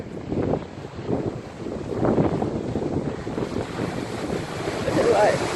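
Rough, broadband ocean surf rolling and breaking nearby at Coffs Harbour, New South Wales, with gusty wind buffeting the microphone throughout and no voices.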